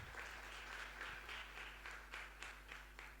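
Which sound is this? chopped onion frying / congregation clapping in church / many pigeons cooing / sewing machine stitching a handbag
congregation clapping in church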